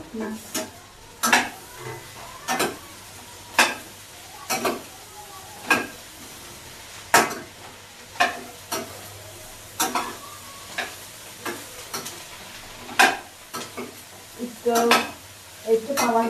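A spoon scrapes and clinks against a pan while okra is stirred with fried onions and chilies, repeated sharp metal strikes over a soft sizzle, with no voices.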